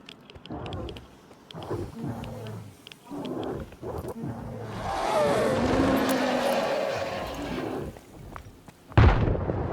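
A bloodsucker mutant in the video game Stalker 2 roaring and growling in long, loud rumbling bursts, building into a sustained roar before a sharp heavy impact near the end, with brief faint talk early on.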